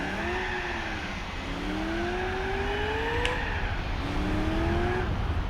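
Gran Turismo 4 race car on badly worn tires spinning its wheels in third gear, the engine note climbing in repeated rising sweeps with tire squeal and skidding over the top, loud and steady with no talking.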